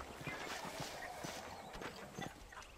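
A horse's hooves clip-clop at a steady ride in the Red Dead Redemption video game, a quiet rhythmic patter in open surroundings.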